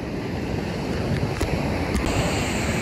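Ocean surf rolls in steadily at a beach below the cliffs of Arraial d'Ajuda, Bahia, a continuous close roar of breaking waves mixed with wind buffeting the microphone.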